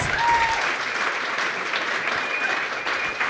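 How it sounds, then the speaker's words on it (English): Audience applause for Rob Little and Jesse Thomas at a Central Oregon pub talk, steady and dense throughout, with no talking over it. "how about a round of applause for Rob Little and Jesse Thomas?"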